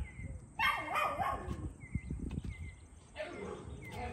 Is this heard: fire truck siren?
no